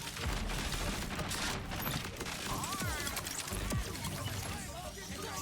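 Gunfire from a weapon in the video game Borderlands 4, with scattered shots and impacts mixed into a busy, dense game soundscape while a person talks over it.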